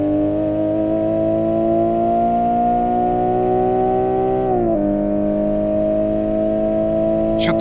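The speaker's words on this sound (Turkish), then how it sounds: "Şu turbo sesi." A Nissan Skyline GT-R R34 Nismo in the Assetto Corsa racing game drones with a rising engine and turbo whine, dropping sharply mid-way as the throttle lifts, then continuing steadily, loud and close.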